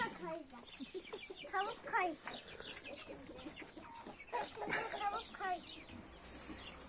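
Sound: chicken clucking

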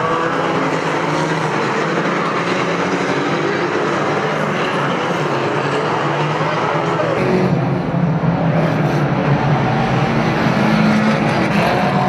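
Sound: banger racing cars colliding on an oval track

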